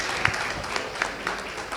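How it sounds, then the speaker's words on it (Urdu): An award-ceremony audience applauds the poet Abbas Tabish: a dense, steady patter of many hands clapping in a hall, with a few sharper individual claps standing out, and no one speaking. "ایک دفعہ پھر بھرپور تالیاں عباس بھائی کے لیے"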